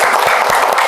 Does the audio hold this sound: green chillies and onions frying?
no